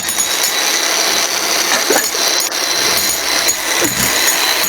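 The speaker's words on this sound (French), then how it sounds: "c'est un marteau-piqueur." A jackhammer in a video game rattles loudly and continuously, a dense mechanical chatter with a few brief bursts and knocks on top, no voices heard.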